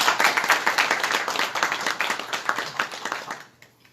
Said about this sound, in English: Please give Dave a round of applause.